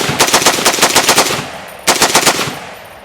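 Full-auto 7.62x51mm rifle fire in the video game Critical Ops: a long rapid burst of loud, close shots, a brief pause, then a second shorter burst, with no talking.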